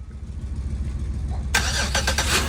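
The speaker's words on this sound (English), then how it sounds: "Starter is changed, cranks right up." A 2010 Buick Lucerne with a freshly replaced starter cranks in a quick, even chugging rhythm, then catches and fires, bursting into a louder engine roar that holds steady to the end.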